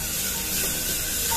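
Turmeric powder with green chilli and garlic paste sizzles in a hot pan while being stirred, a brief, dense frying hiss with soft scraping, close and continuous.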